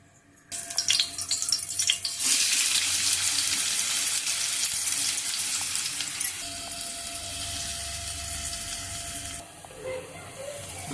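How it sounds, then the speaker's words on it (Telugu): Chopped onions drop into hot oil and burst into a loud, hissing sizzle after a brief quiet start, the frying staying strong and steady before easing slightly toward the end. "ఆయిల్ వేడెక్కిన తర్వాత ముందుగా ప్రిపేర్ చేసి పెట్టుకున్న ఆనియన్స్ వేసుకోవాలి ఫ్రెండ్స్."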